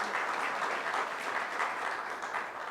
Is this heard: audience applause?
yes